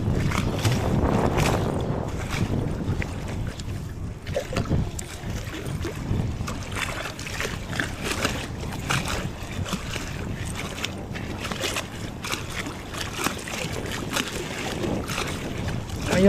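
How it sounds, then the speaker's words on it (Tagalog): Strong wind buffeting the microphone on a small fishing boat at sea, a continuous roaring rush with gusts and water noise throughout, no voices. "Lakas po ang hangin."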